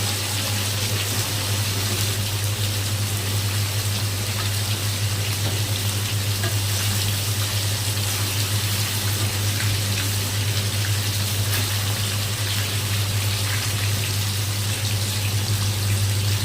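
Hilsa fish pieces frying in hot oil in a pan, a steady, dense sizzle with crackling that runs evenly and fairly close for the whole stretch, with no talking over it.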